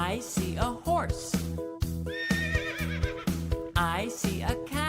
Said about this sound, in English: I see a horse.